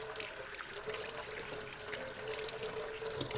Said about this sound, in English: Toss them, rinse it very well.